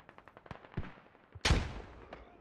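Rapid bursts of machine gun fire from rooftop MG positions in a multiplayer war game match, a quick patter of shots followed by a loud, sharp blast that decays into a rumbling tail.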